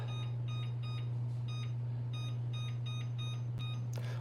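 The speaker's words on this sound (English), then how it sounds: "I'll set a timer" A kitchen timer is set for baking and gives a run of short, evenly spaced electronic beeps, clear and close over a steady low hum.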